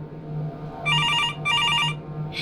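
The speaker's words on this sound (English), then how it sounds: "answering the phone until the phone rang again" A telephone bell rings twice in a home setting, two bright trilling bursts with a short gap, over a low steady hum from a television nearby.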